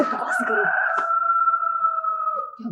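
A rooster crows once in a long, drawn-out call, loud and close, with a brief stutter near the start and a rough fade at the end.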